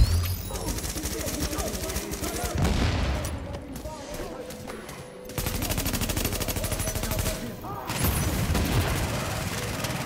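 Deployed turret in The Division laying down rapid automatic fire: dense, fast bursts of gunshots repeat across the stretch with short lulls, mixed with other combat noise and players talking over it.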